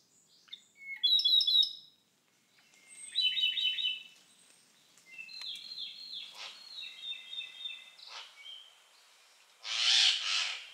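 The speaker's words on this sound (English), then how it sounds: "The Akahige. This robin can only be encountered here and on neighboring islands." A Ryukyu robin sings on Amami island, several clear phrases of high, trilling notes separated by short pauses, close and alone against a quiet background.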